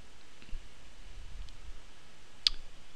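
Computer mouse clicks on the iTunes Update button: a few faint, sharp single clicks spaced apart, the clearest one near the end, over a quiet background hum.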